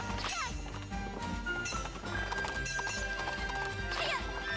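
Horse hooves clip-clop amid a dense, loud game soundtrack in Princess Peach Showtime, with a neigh rising briefly near the end; music and effects dominate throughout.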